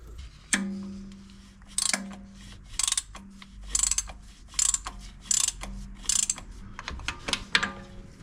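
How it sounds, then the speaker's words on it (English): A 27mm flex head ratchet clicks in quick bursts while undoing an oil filter during a Freelander 2 service, sharp close ratcheting clatter with pauses between strokes and faint metallic taps. "we've got to get that on 27mm flex head ratchet"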